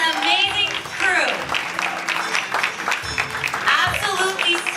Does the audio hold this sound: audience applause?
yes